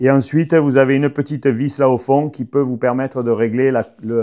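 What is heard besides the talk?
None of the usual background noises is heard.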